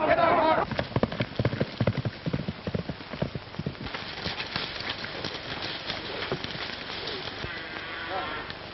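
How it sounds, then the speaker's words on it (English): Horses' hooves clip-clop on the ground as a group of riders sets off, the irregular clatter of hoofbeats close and moderately loud, with voices talking over them early on. "Get on your horses, let's go ahead."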